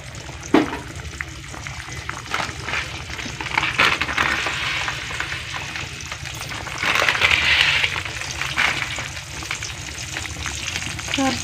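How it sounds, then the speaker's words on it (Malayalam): Coconut oil sizzles and crackles in a hot pan for tempering a simple curry, with steady frying noise that swells louder partway through and no voices. "കുറച്ച് വെളിച്ചെണ്ണ ഒഴിച്ച് കൊടുക്കട്ടോ."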